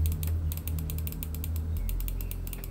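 Quick, crisp mechanical clicks from the switches of an Ajazz AJ159 Apex gaming mouse in a rapid irregular series, close and small, over a low steady hum.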